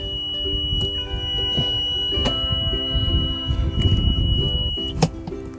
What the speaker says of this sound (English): Anytime you put your golf cart in reverse, you're going to hear a beep